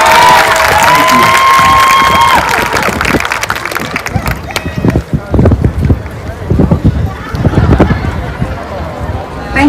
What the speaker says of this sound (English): Again, give them one more round of applause as they take their seat.